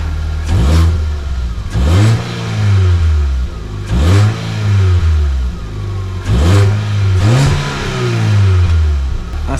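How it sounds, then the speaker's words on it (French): A car's exhaust, with no whistle device fitted, roars through a series of repeated revs, each rising sharply and falling back, loud and close-miked, with brief lulls between bursts. "le son de la voiture, de l'échappement, sans le petit appareil"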